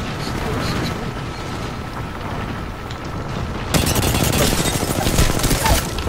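Video game firefight during a ranked arenas match, with rumbling airstrike explosions and gunfire building into louder, denser booms midway, while players talk over the noise.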